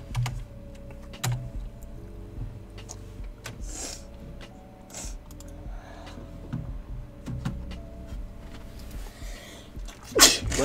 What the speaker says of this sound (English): Sneezed into your shirt.